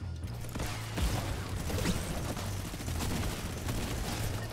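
Minigun fire in a Fortnite-style video game chatters in rapid bursts through the whole stretch, with mechanical whirring and clattering mixed beneath at a steady, moderately loud level.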